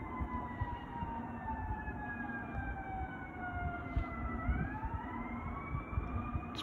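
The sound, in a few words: fire truck siren approaching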